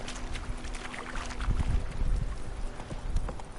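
Hooves of Geralt's horse Roach in The Witcher 3, a steady clip-clop of a trotting horse over an outdoor game ambience with light wind, fairly faint and continuous.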